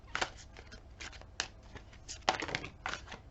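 Tarot cards are shuffled by hand in a series of quick, soft riffling bursts at an irregular rhythm, close and fairly quiet, without speech.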